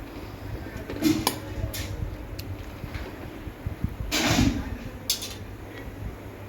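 Chopped onions for pav bhaji are stirred in a pan. A steady, soft sizzling hiss runs throughout, broken by a few close metallic clinks and scrapes of a spoon against the pan.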